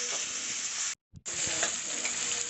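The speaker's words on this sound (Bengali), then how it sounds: "সবজিটা হালকা করে ভেজে নিয়েছি" Carrots and beans frying in a wok give a loud, dense sizzle that cuts out for a moment, then returns with light stirring scrapes, no voices.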